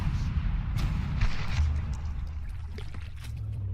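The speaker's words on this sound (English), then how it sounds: "All those shots just bounce." Shots glance off armour in a video game battle, producing muffled booms and dull metallic thuds over a low, rumbling background.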